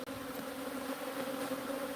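Bees swarming inside a house wall give a steady, even insect hum throughout, a continuous drone with no voices over it.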